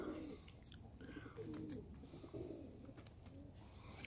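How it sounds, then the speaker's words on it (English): A flock of white doves, over fifty birds kept with eggs indoors, coo in low repeated rolling calls throughout, several birds overlapping at close range against a steady busy background. "All these birds."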